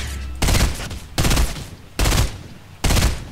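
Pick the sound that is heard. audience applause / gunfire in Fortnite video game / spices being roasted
gunfire in Fortnite video game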